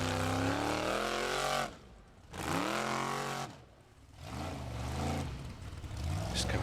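Formula Offroad Outlaw car with an engine over 1,000 horsepower, a loud roaring engine surging in bursts with two sharp drops between revs at an Icelandic competition, with commentary over it.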